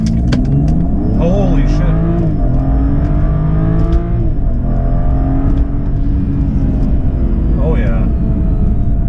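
Tuned BMW F30 335i xDrive with an aFe cold air intake and Turner Motorsports tune accelerating hard from a two-foot launch, its engine note loud and rising over several seconds inside the cabin while occupants exclaim over it.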